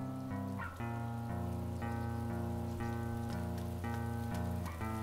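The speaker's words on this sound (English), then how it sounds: "Look at that, just starts raining straight away." Steady rain hiss in the video game DayZ Standalone patters on without a break beneath a droning, tonal hum of music, fairly quiet and even throughout.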